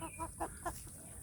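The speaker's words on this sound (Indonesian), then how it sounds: "ini untuk anak ayam kampung yang sudah" Kampung chickens in a coop give a few short, soft clucks in a loose rhythm, low in level against a quiet background hum, with no voices.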